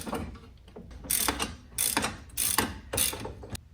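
Ratchet wrench tightening a strut bolt on a 1994-2004 Ford Mustang front suspension, four close bursts of rapid clicking separated by short pauses.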